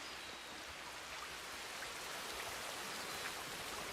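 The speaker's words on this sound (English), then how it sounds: "the rain must have made it hard to hear" Steady rain pours in a Red Dead roleplay game scene, a continuous even hiss of falling drops, soft and constant throughout with no voices.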